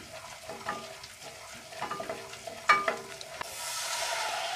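Milk poured into a hot pan of melted butter and flour roux, a few clinks and scrapes before a sudden rushing hiss that continues steadily to the end.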